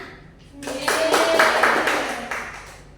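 Children in a classroom clap for a classmate, a brief burst of applause that swells and fades over a few seconds, with a few voices mixed in.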